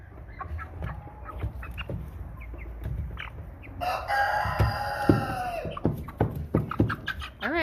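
American Bresse chickens, nine-week-old birds being caught and handled for sorting, cluck and squawk close by in bursts, with one loud sustained crow-like call in the middle amid scuffling and handling noise.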